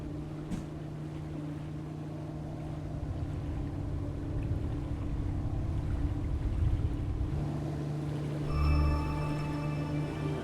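A boat crossing icy cold water in the video game Inua: a steady, low motor drone with a faint watery wash, holding evenly throughout, with a brief swell near the end.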